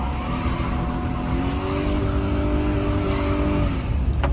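A 2000 Chevrolet Silverado with a worn, failing 4L60E transmission and a muffler delete accelerates hard, its loud raw exhaust droning steadily and rising in pitch as it pulls through the gears, close and continuous with no talk.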